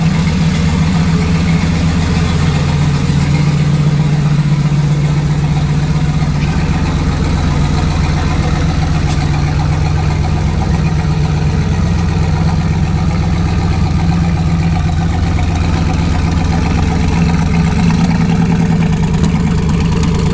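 A car engine idles steadily at close range for the whole stretch, a loud, even low rumble with only slight swells and no talking.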